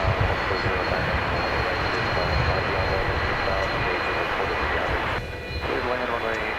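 An American Airlines airliner at DFW Airport on runway 18 left, a loud continuous roaring jet rumble, distant but powerful, with radio chatter from air traffic control over it.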